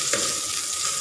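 Coriander root and garlic stir-frying in a little oil, a short burst of bright close sizzling with a faint scrape of stirring.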